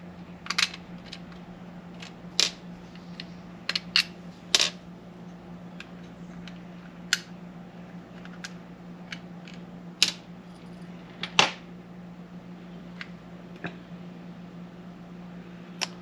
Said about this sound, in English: we're going to have to go ahead and pop these 3 screws out